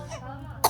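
A short, sharp cough bursts out at the very end of a brief stretch of quiet background murmur, close and fairly loud.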